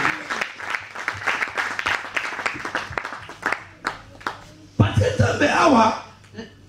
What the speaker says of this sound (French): Est-ce que nous ne pouvons pas acclamer pour Dieu?